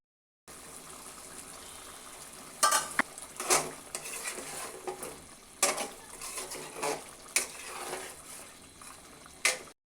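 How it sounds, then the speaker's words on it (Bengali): Beef is stirred and fried in a pan, with a spatula scraping and clacking in irregular bursts over a low sizzle, fairly quiet and close. "কিছুক্ষণ মাংসটাকে ভালো করে কষিয়ে নিয়েছি"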